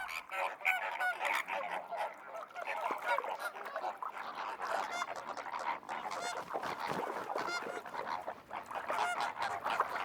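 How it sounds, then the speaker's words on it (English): A flock of flamingos calls continuously, a dense goose-like honking and gabbling chorus of many birds, loud and close, with no speech over it. "Flamingos are very sociable birds."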